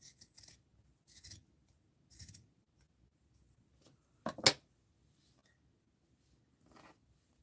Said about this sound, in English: I've got a piece of lace. I like that. Let's snip it off though.